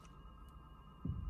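Slow, heartbeat-like drums from the Castlevania: Dawn of Sorrow soundtrack, a faint low hum with a single soft low throb arriving near the end.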